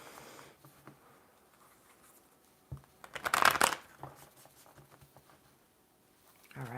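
A deck of tarot-style cards is riffled and shuffled close up, a short crisp flurry of rapid flicks in the middle between quieter handling rustles and soft taps.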